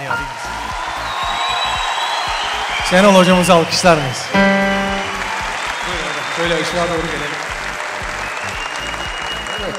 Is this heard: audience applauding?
yes